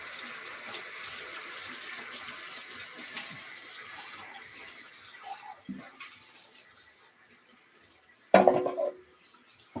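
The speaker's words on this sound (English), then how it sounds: "Let me just rinse my hands." A kitchen tap runs while hands are rinsed, giving a steady close wash of water that eases off, then a short clatter near the end.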